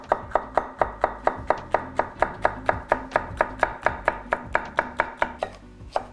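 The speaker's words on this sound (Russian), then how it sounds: "Сейчас мелко нарежем перец." A knife finely chops pepper on a cutting board while a Hungarian brown soup is being prepared, about twenty crisp, evenly spaced knocks in a steady quick rhythm, close and clear.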